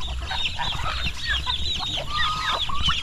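Chickens cluck and chirp steadily in a busy farm coop, with overlapping calls and a low background rumble, no voices.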